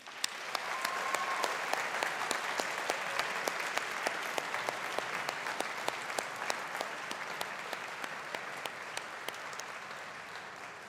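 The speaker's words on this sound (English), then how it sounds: "show our appreciation and gratitude to them with a round of applause" A graduation ceremony audience applauds in a large hall, a broad steady roar of many hands with sharp individual claps standing out near the microphone, sustained for several seconds without speech.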